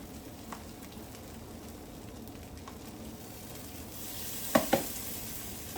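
Peppers and onions sizzling on an outdoor cooktop for breakfast burritos, a low steady crackle that swells near the end with a couple of sharp stirring clanks.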